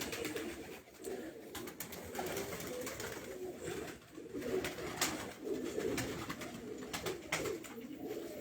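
Pigeons cooing on a rooftop where racing pigeons are kept, repeated soft rolling coos at close range over faint background noise, with no talk.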